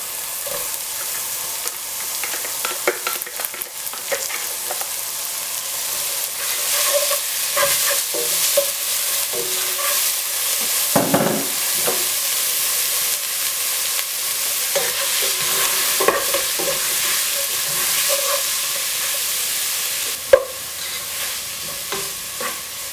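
Sliced onions, with bay leaves and garlic, frying and softening in oil in a pot for rice, a steady close hiss with repeated scraping stir strokes and a sharp clack near the end, with no speech.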